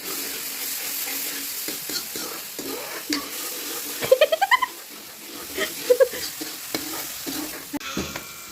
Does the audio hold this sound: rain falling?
no